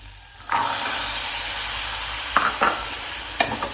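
Tomato and chickpeas sauté in a hot pan for a chickpea curry, a steady close sizzle broken by a few sharp scraping stirs of a spoon against the pan; no one speaks.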